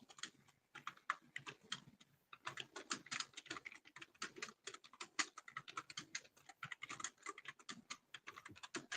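Rapid typing on a loud mechanical keyboard with Cherry switches, sharp clacky keystrokes in quick irregular bursts with a short pause early on, close and crisp, with no talking.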